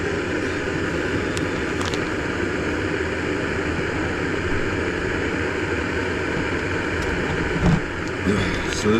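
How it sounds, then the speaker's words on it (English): A Jetboil camping stove heats water on a rainy truck camping morning, giving a steady close hissing roar of the burner that holds constant, with a few faint knocks near the end. "you guys can hear me over the thing trying to boil water"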